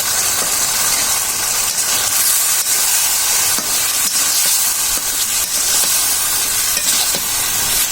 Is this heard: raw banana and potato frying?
yes